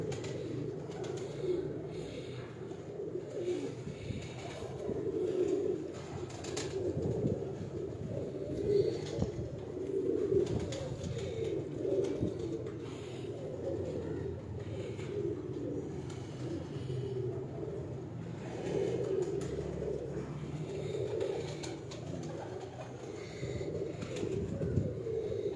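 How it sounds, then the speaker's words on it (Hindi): Breeder pigeons coo continuously and close by in a loft, their soft overlapping calls rolling along in steady waves with no voices over them. "ये माशाल्लाह मेरे ब्रीडर कबूतर हैं सारे"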